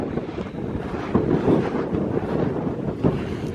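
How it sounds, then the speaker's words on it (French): Hot wind gusts across a hillside on a climb up toward a small crater in Death Valley, buffeting the microphone in a steady rushing roar with louder bursts. "Il y a du vent, ça fait du bien, mais en fait le vent est hyper chaud"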